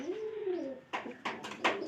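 Pigeons in a loft with straw nests give a low, rolling coo that rises and falls over the first second, followed by several sharper bursts of flapping or shuffling close by, with no talk.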